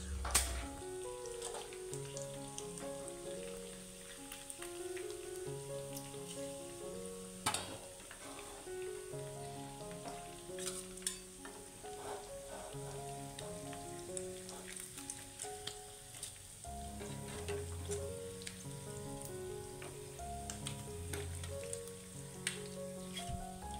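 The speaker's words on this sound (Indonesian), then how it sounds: "Setelah ayamnya matang, lalu ayam kita goreng ya." Chicken pieces, first simmered until cooked, frying in hot oil for ayam balado, a faint, steady crackling sizzle with scattered pops and occasional stirring clatter throughout.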